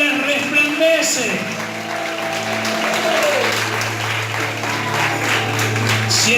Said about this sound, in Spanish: Si ese aplauso estuvo para mí está bien